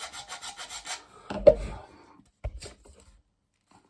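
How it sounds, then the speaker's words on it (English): A file rasps against a plastic front grille piece in a run of rhythmic strokes, followed by a louder scrape and a brief knock, close by with no voices. "and just file that a little bit."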